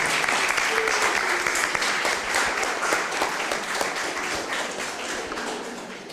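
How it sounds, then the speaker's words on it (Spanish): An audience applauds, a dense crackle of many clapping hands that holds steady for several seconds. "Pues Mercedes, muchísimas gracias, de verdad, un aplauso para Mercedes."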